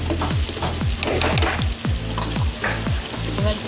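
Pasta masala for chicken pasta frying in a pan, a loud continuous sizzle with repeated rhythmic stirring scrapes throughout, no talking.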